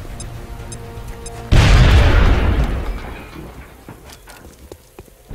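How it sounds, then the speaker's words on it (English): A grenade detonates in the strategy game XCOM: Enemy Within, a sudden loud boom that rumbles and crackles before fading into debris patter, after a quieter lead-in. "Now toss your grenade at the enemy in front of you."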